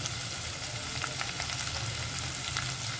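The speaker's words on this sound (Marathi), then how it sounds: "फोडणी हो, छान बघत आवाज येतो छान फोडणीचा" Loud, continuous sizzling of onion dropped into hot oil for a tempering, a dense crackling hiss with small pops and no voices.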